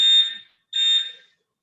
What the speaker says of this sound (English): Fire alarms are great things.